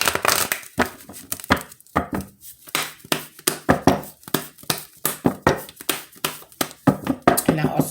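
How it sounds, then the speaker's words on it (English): A deck of tarot cards being shuffled close up, heard as a rapid run of crisp riffling and slapping bursts in a steady rhythm across the whole stretch, without anyone talking. "And I also pre-shuffle the cards,"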